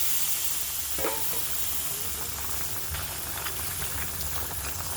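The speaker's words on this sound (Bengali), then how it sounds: "ডালের বড়ি ভেজে তুলে রাখছি" Sun-dried lentil dumplings (daler bori) fry in hot oil in a pan with a steady, dense sizzle and crackle throughout, loud and close, with a few sharper pops.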